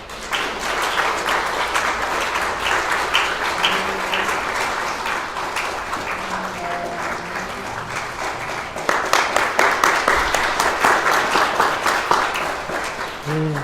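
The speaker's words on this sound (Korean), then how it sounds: "우리 박수로 축하해 주시고 격려해 주시면" Sustained applause from a church congregation at an anniversary service, congratulating a deaconess as flowers are presented; a dense, steady wash of clapping with voices underneath, briefly growing into a stronger rhythmic clap midway.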